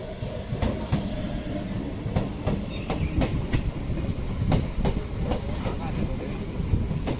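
A train rumbles along the rails with repeated clattering wheel clicks, a steady close roar with rhythmic knocks throughout.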